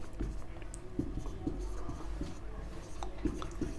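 Marker or chalk writing on a board during an economics lesson: soft, irregular taps and short strokes over a low room hum, close and fairly quiet, with no speech.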